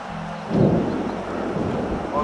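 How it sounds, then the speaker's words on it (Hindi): Rain falls at a hillside cottage in Manali while a low rumble of thunder rolls in after a quiet start, then steady rain noise holds under the storm. "और बारिश हो रही है।"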